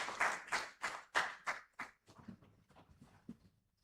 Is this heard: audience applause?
yes